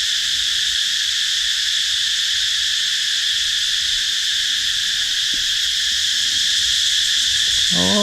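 Loud, continuous buzzing drone of cicadas at a forest temple in Vientiane, Laos, fills the whole stretch, steady and unbroken, with faint low rustling beneath.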